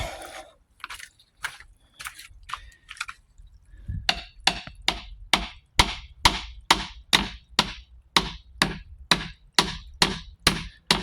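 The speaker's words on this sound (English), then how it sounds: "we'll tappity tap that tight with the hammer" A hammer taps a part tight on a Pentair salt-water pool system filter, close and fairly loud, a few scattered strikes at first, then a steady rapid run of evenly spaced blows.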